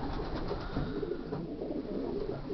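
A dark checker grizzle yearling racing pigeon cooing at a one-loft race, a low, soft, rumbling coo repeated over a dense, muffled background, close and continuous.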